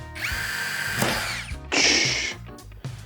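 Dnipro-M DTD-201BC impact driver driving a 3.5x35 screw into metal, two loud bursts of rapid hammering whir separated by a brief pause, close and alone.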